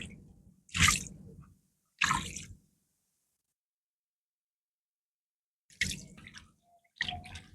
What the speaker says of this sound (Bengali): তো ভালো করে ধুয়ে নিচ্ছি